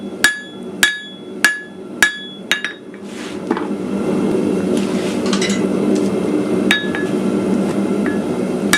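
A blacksmith hammers an iron stem to a taper on an anvil, with a series of sharp, ringing metallic strikes at a steady rhythm, then a dense clatter of rapid light blows and scraping, and a few more spaced ringing hits near the end.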